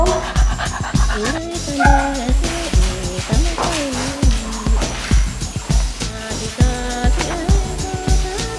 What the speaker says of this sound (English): do you hear her barking?